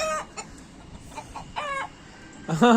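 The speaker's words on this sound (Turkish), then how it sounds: "Uçan kaçan tavuklar" Chickens cluck in short, scattered bursts with quiet gaps between them, ending in one louder, closer cackle, heard outdoors with no talk.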